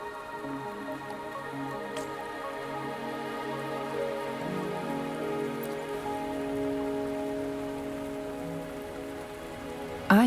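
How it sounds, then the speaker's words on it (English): Steady rain patters on a surface with soft drips, accompanied by a continuous tonal music bed underneath, in the video game Wuthering Waves. "Are you trapped here by the rain?"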